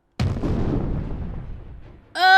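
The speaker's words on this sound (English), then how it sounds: "The sound of cannon fire cracked loudly in the distance" A single heavy cannon boom in Hakuoki rolls out with a long rumbling decay, loud but with a distant character, followed by a sharp tonal sound cutting in at the end.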